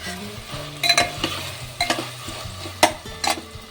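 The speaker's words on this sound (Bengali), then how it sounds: "এখন একটুখানি কড়াইশুঁটিটা দিয়ে দিই।" Frozen peas go into a pan of frying paneer, bringing a low sizzle with irregular clinks and scrapes of a spoon against the pan as the mix is stirred.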